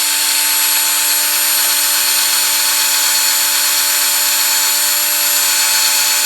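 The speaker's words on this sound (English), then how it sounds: "just got 3mm drill bit, and just hold it" A power drill fitted with a 3mm bit runs at full speed, giving a steady, loud, continuous high whine that holds unchanged for the whole stretch, with no talking.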